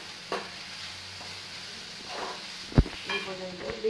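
Chopped green chilli fries and is stirred in a pan for a chicken momo filling, a soft steady sizzle with a few scraping stirs and light clinks near the end.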